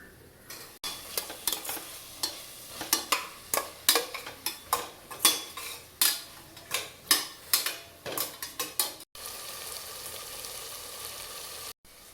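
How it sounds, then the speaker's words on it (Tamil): Chopped tomatoes are stirred into a frying pan while cooking kuska: repeated scraping strokes of a utensil against the pan over a soft sizzle, with a brief pause near the end. "இப்போ இந்த நறுக்கி வச்ச தக்காளியும் சேர்த்துக்குவோம்"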